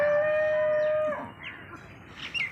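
A single long, close moo from an HF (Holstein Friesian) cow lasting about a second, then quiet with faint farmyard noise.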